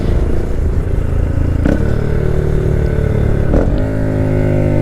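A 2022/2023 Honda Grom motorcycle of roughly 9 horsepower idles loud and close with a steady, humming low drone, broken by two short clunks as the engine note shifts slightly.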